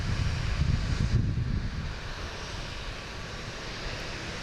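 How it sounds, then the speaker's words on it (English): Delta Airbus A321 arriving from Atlanta at Boston Logan, a low rumbling jet engine roar, louder at first then easing into a steadier distant drone with some wind noise. "We got a Delta coming in from Atlanta."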